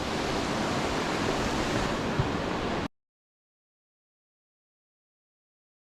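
A mountain stream rushes through Daewonsa valley on Jirisan, a steady broadband roar of flowing water heard close and loud, which cuts off abruptly about halfway through.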